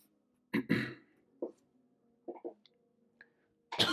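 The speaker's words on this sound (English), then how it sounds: "Excuse me, bit of a cough." A person coughs and clears their throat in a quiet room, a few short separate bursts spread across a few seconds, close and fairly soft, with no talking.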